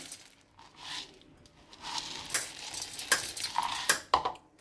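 Chopped onions tipped into a bowl and stirred for ragi puffed-rice bhel, soft scraping, rustling and light clinks of a spoon against the bowl, quiet and close.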